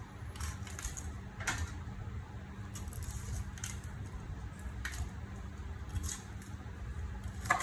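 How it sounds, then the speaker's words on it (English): A knife crunches through cauliflower stems on a cutting board, a series of soft, irregular squishy snaps and clicks spaced a second or so apart over low background noise. "Okay, just gonna cut the stems."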